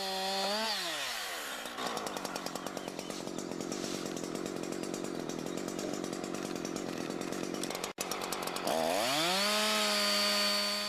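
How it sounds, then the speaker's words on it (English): A chainsaw engine revs and drones steadily as it cuts through a tree trunk, loud and close, with a brief pause near the end before revving up again. "Start by sawing from underneath about 1/3 of the way through the trunk"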